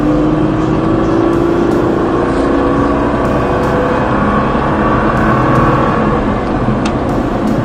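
A car engine accelerates and revs on a track, a loud continuous droning roar rising in pitch with a few sharp clicks, and no one talking.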